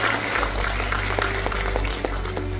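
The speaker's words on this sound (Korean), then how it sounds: "많은 박수 부탁드립니다." An audience at a Korean talk show event applauds a guest's arrival, producing a full, continuous patter of clapping with a faint voice and some tonal background sound mixed underneath.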